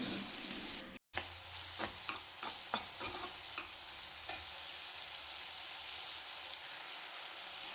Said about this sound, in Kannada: ನಾವೀಗ ಸ್ವಲ್ಪ ಫ್ರೈ ಮಾಡ್ಕೊಬೇಕು